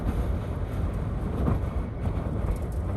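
Strong gusting wind, up to about fifty miles per hour, roars steadily around and against a parked camper van, a dense close rumble with brief swells and no voices.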